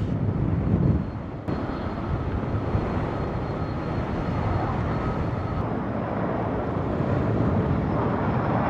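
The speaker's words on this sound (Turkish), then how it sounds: "İkinci uçak ve üçüncü uçak." Firefighting propeller airplanes drone steadily overhead, a loud continuous engine roar that swells slightly as they pass.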